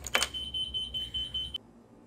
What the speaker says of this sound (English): When you turn the unit on, you may notice it starts beeping.